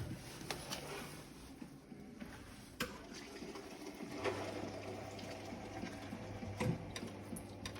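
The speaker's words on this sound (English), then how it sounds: "The feeder has started to mix up the milk and will be pumped on out." A DeLaval CF1000S automatic calf feeder mixes and pumps milk in a calf shed, producing a faint steady mechanical whir with soft rhythmic ticking and a low hum that comes in partway through.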